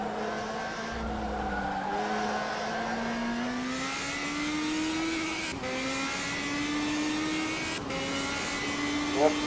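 Radical SR3 race car on a track, its engine holding a loud, steady, gradually rising drone, with a sharp short throttle blip near the end.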